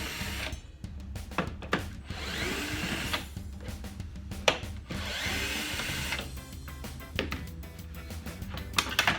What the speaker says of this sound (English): We're going to remove the 4 screws